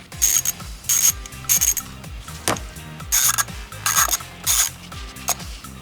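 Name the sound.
ratchet removing oil filter cap bolts on Can-Am Outlander 850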